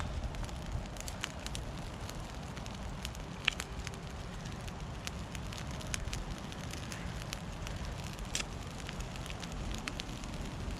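A small campfire of sticks burning on the ground in the woods, crackling softly and steadily with occasional sharp pops, under a low rushing breeze throughout and no talk.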